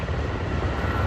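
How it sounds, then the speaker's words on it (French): Helicopters fighting the Kincade wildfire in California, refilling with water at a large pond, produce a loud, continuous rotor and engine roar, close and unbroken for a brief moment. "le travail de ces hélicoptères qui viennent ici faire le plein d'eau dans cette grosse mare"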